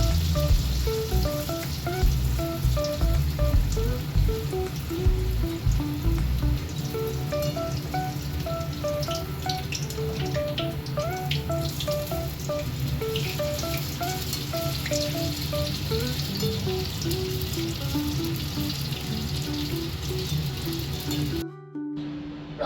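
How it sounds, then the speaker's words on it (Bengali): Radhaballavi dough deep-fries in hot oil with a steady, crackling sizzle that runs on for a long stretch, close up and fairly quiet. "এবার এটা ভাজতে দিয়ে দেবো।"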